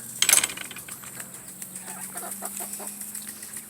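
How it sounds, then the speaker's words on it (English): Meat chickens in a straw-bedded pen, a burst of wing flapping near the start followed by soft clucks and scratching rustles at close range. "Meat chicken."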